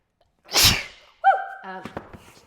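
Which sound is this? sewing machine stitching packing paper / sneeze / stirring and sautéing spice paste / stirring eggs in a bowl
sneeze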